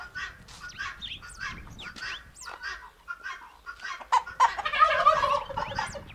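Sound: chickens

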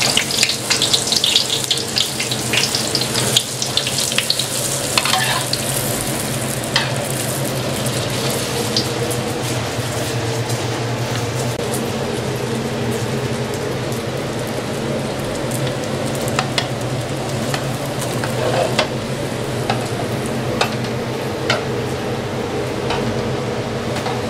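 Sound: food frying in oil at roadside diner

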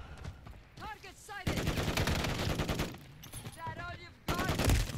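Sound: AR rifle gunfire in a video game

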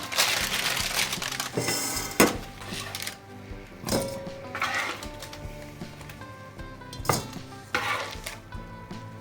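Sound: placing chicken wings into a bowl

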